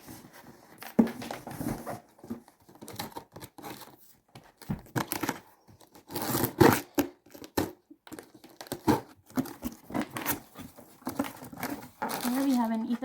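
Packaging of a Brother INKvestment Tank MFC-J4535DW color inkjet printer is unboxed, with bursts of close plastic and cardboard crinkling, crumpling and tearing in uneven spurts, and a voice talking between them.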